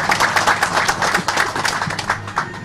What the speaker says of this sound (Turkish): Onları alkışlamak istiyorum.